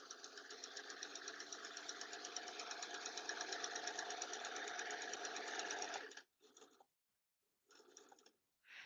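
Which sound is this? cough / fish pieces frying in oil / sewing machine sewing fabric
sewing machine sewing fabric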